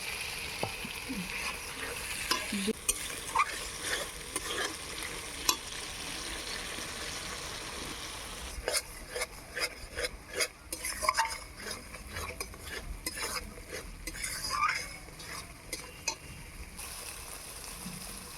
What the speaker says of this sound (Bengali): অল্প একটু জল দিয়ে মশলাটাকে ভালো করে আমি কষিয়ে নেব।